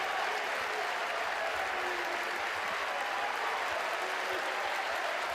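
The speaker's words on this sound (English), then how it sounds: "Crowd to its feet" Baseball crowd in Athens at a Georgia versus Mississippi State game rising to its feet, a steady, dense roar of cheering and applause sustained throughout without a break.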